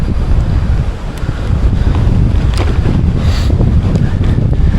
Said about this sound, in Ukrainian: Дує вітер, такий поривчатий сьогодні.